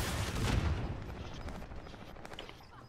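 Rapid bursts of gunfire from a video game crackle at moderate volume, dense at first and tapering off.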